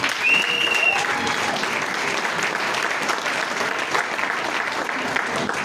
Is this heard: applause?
yes